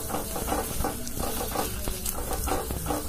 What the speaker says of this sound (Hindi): देसी घी में ही परोठे को तलना चाहिए